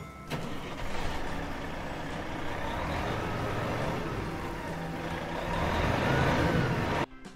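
A van passing or idling nearby, its steady engine drone and road rumble holding for about seven seconds, loud and continuous, then cutting off abruptly.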